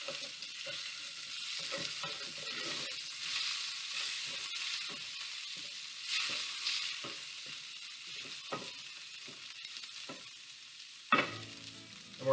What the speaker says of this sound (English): Give our bacon a little stir there